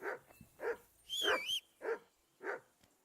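A dog in the video game Kingdom Come Deliverance 2 barks six times at a steady rhythm, close and fairly loud, with one longer howling bark in the middle and no talk over it.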